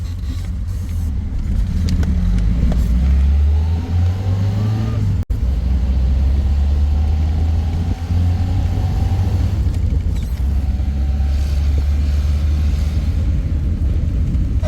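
A small 1968 Fiat 850 Spider roadster engine with a 4-speed gearbox hums steadily as it drives, low and rumbling, rising slightly in pitch as it accelerates through gears.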